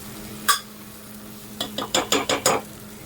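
A spoon stirs vegetable curry in a pan on a low flame, with one sharp scrape, a pause, then five quick rhythmic scrapes over a faint steady sizzle.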